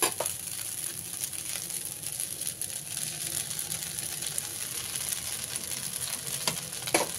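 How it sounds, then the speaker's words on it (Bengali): Pasta frying with vegetables in a pan, giving a steady, moderate sizzle and crackle that runs the whole time, with a few faint scraping clicks of stirring and no talking. "পাস্তাটা এইভাবে আমি কিছু সময়ের জন্য ভেজে নিয়েছি, এবারে এর মধ্যে সবজিগুলো দিয়ে দেবো।"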